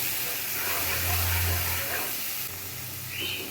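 Spices sizzle and hiss steadily in a hot pan while being sautéed for a fish curry with cauliflower and potato, a continuous close frying noise with no speech.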